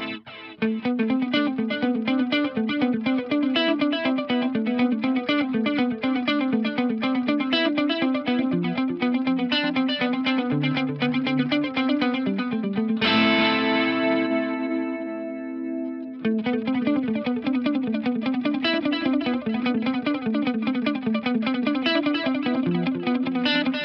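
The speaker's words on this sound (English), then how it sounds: "Change the tone of that digital delay with the intensity control. I generally like my delays a little bit darker" Electric guitar through a Source Audio Nemesis digital delay pedal set to a darker tone, loud rhythmic picked chords with modulated repeats trailing behind, a held chord ringing out with delay tails midway before the steady strumming resumes.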